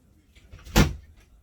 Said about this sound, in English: oh, I gotta open the door